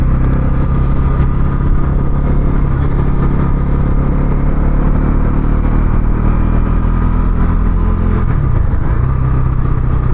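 Bajaj Pulsar NS 400 motorcycle on a test ride in Hyderabad, its engine droning loud and steady from the rider's position with a constant low hum and wind rush, pitch dipping briefly near the end.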